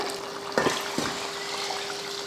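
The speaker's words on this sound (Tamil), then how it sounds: "அதில் தான் தண்ணி சேர்த்துக்கிறேன்" Water poured from a cup into a pot of rice for Ambur chicken biryani, a steady splashing stream with a couple of brief louder splashes, close and continuous over a faint hum.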